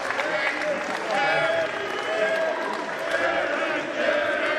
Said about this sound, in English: As the crowd shows their support and thanks to Jerry Lynn